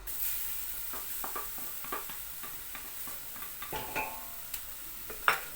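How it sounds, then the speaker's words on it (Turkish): Peppers with flour sautéing in a pan for a creamy vegetable soup, giving a soft, steady sizzle broken by scattered stirring scrapes and clicks of a utensil against the pan, close and fairly quiet, with no talking. "Şimdi biberlerimi ilave ediyorum. Bunda kavuracağım."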